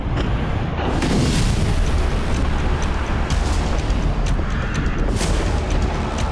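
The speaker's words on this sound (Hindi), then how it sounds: "Su-25 जमीन से टकराया और जोरदार धमाका हुआ।" A Su-25 jet crashing into the ground erupts in a heavy explosion into a sustained roaring boom, with crackling bursts continuing through it, loud and without voices.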